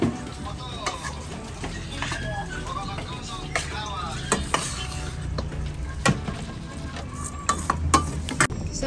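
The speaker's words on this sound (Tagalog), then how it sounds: "So, haluin lang natin na haluin." Beef and broccoli stirred in a frying pan, a steady sizzle with scraping utensil strokes and occasional clinks of metal against the pan, close and continuous.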